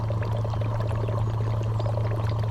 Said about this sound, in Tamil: இந்த ஒரு குடம் நிரம்பினதும் எடுத்து வச்சு தண்ணி பிடிச்சிக்க